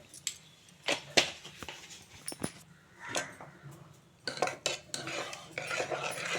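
A spoon stirs tomato dal with turmeric and chili powder in a metal pot, making sparse, uneven clinks and scrapes against the vessel with brief gaps between strokes, close and fairly quiet.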